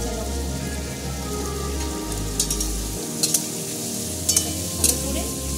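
Onion and green chilli fry in a pan with a dense, continuous close-up sizzle, a low hum beneath, and a few sharp spatter pops scattered through the latter half.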